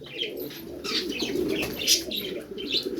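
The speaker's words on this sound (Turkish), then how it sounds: "On iki tane kuş." Soft, low cooing of twelve Turkish tumbler pigeons, repeated in short murmuring phrases with light chirps and faint wing flutters, fairly close, no talking.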